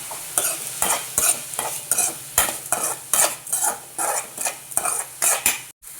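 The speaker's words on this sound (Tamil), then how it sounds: "இது வதங்கிட்டு இருக்கட்டும்" Onions are sautéed in a pan, with a soft sizzle under a quick, regular series of spoon strokes scraping and clinking against the metal, close and clear with no talk.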